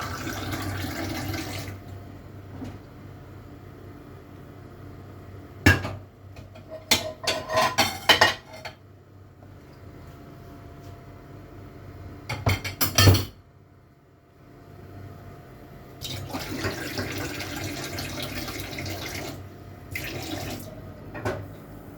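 Tap water runs into a cooking pot while sauce is prepared for an Italian pasta dish, a faint steady stream with a few louder clanks of dishes and utensils in between.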